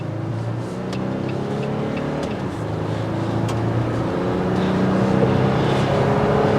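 A Jeep Gladiator Mojave accelerates on a test drive, its engine note climbing through gears with a steady rising hum that grows louder toward the end.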